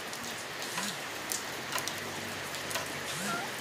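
Rain falls steadily with a constant soft hiss and scattered drop ticks, and a few faint low sounds come through under it.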